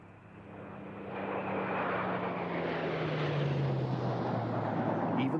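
A Spitfire's propeller-driven piston engine drones overhead, growing louder as it approaches, with a pitch that slowly sinks as it passes.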